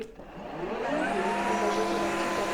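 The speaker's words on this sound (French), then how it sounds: "Et là on a la brosse du coup qui tourne, qui vient s'imbiber d'eau." Mova M10 wet floor washer running its automatic self-cleaning cycle, a steady close motor whir with the brush spinning and soaking up water, rising slightly in pitch at the start and then holding level, with no talk.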